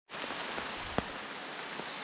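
Heavy rain pours in a dense, steady hiss that starts abruptly, loud and continuous, with a single sharp drip-like tap partway through.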